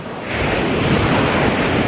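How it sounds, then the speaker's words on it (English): Ocean surf washes steadily onto the shore with wind buffeting the microphone, a loud, even hiss and rumble of breaking water that holds throughout the short stretch. "the waves are just constantly ebbing and flowing, the entire thing's changing all the time"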